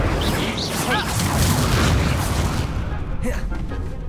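The Incendio fire spell is cast in Hogwarts Legacy, a loud, dense burst of roaring, booming fire that fills the whole moment and fades slightly toward the end, with voices faintly mixed in.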